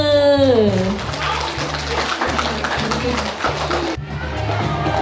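A crowd of schoolchildren applauds at a school science-day event in Thailand, dense steady clapping with a rhythmic pulse underneath, running throughout and briefly dipping near the end.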